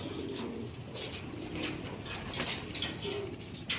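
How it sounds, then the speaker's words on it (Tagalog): Racing pigeons cooing during a north-to-south derby race, a low soft rolling coo repeating steadily up close with light fluttering and chirps among the flock. "So yun mga Abel, ito na yung mga ibon natin"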